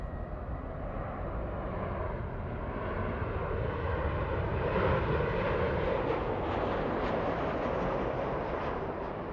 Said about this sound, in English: We have a Delta flight, Delta 1216, flying in from Houston.